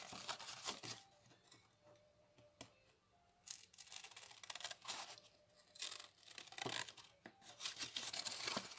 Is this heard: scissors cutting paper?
yes